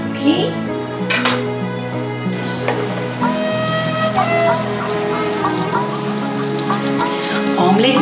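Butter melts and sizzles in an omelette pan, a steady crackling hiss broken by a few soft metallic clinks of the pan, with musical tones running in the background.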